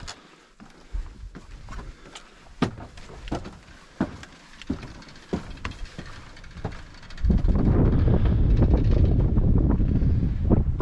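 Gusting wind on an exposed walkway along the Lolo Motorway, first a series of sharp buffeting thumps, then a loud, continuous low roar of wind across the microphone for the final few seconds.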